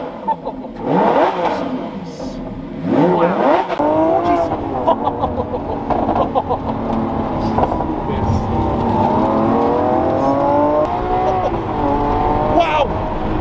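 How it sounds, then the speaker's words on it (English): Lamborghini Sian supercar, warmed up and set to Corsa mode, gives loud, close engine revs that rise and fall in pitch over a steady idle, with people talking throughout. "Couple baby revs."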